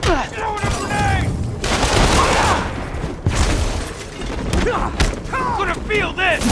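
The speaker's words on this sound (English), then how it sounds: "Throwing a grenade!" Gunfire and a grenade blast ring out in Spider-Man on PS4, with dense bursts of shots and booms running the whole time under shouting voices.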